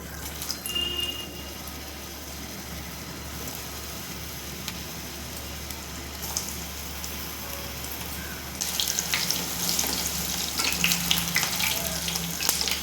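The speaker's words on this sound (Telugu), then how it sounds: "ఇది కొంచెం మీడియం ఫ్లేమ్లో పెట్టుకొని ఇప్పుడు ఇవన్నీ బాల్స్ను ఫ్రై చేసుకోవాలండి" Raw banana kofta balls deep-frying in hot oil over a medium flame, a steady loud hiss and sizzle that swells noticeably stronger partway through, with no talking.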